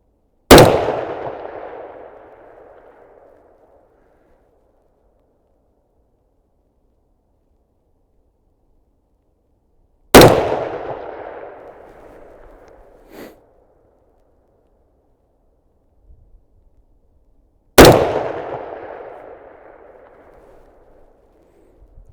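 A Ruger SFAR rifle firing handloads at a long-range outdoor shooting range gives three sharp, loud shots spaced several seconds apart, each followed by a decaying rolling echo.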